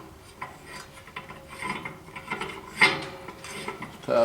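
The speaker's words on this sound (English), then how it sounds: "I'm going to go ahead and screw this in." A part being screwed into the filter housing of an Ingersoll Rand air compressor, giving close, scraping, rasping turns with small metallic clicks and rubbing, uneven in rhythm, with no talk.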